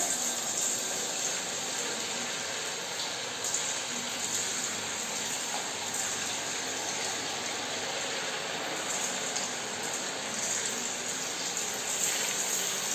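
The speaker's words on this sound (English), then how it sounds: "So let us start frying our baby corns." Baby corn pieces fry in hot oil, giving a steady, close, continuous sizzle and bubbling hiss that holds evenly throughout, with no talking.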